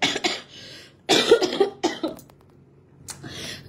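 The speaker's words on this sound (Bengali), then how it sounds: "বুঝতেছি না, কাশি আসতেছে।" A few short, throaty coughs in separate bursts with brief pauses between, close and fairly loud.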